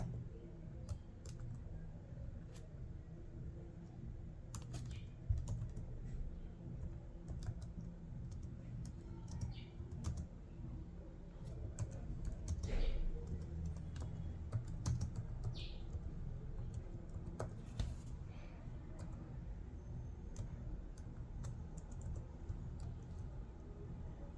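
HTML code is typed on a computer keyboard in a steady stream of faint, close key clicks with occasional louder taps over a low background hum.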